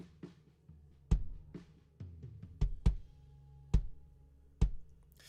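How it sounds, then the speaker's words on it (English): Kick drum close-miked inside the shell with a Beta 91 boundary microphone, giving a series of tight, punchy, isolated thumps at an uneven pace, fairly quiet and dry with short decays. "Kick in was a Beta 91, sounds like this."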